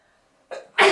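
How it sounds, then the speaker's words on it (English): A single sneeze from a person with a cold bursts out close and loud, preceded by a sharp inhaled gasp after a moment of quiet. "I'm going to sneeze."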